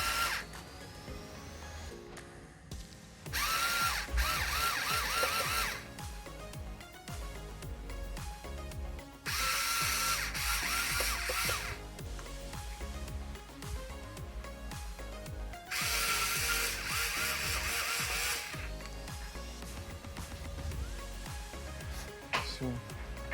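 A power drill or driver whirs in three loud bursts while screws are backed out of an electric scooter being repaired for an E2 error code, with quieter ratcheting and handling noises and someone talking between bursts.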